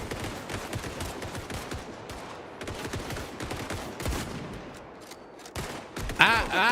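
Rapid gunfire in the Rainbow Six Siege video game: dense bursts of quick repeated shots at moderate loudness, running almost continuously, with voices briefly heard over the shooting near the end.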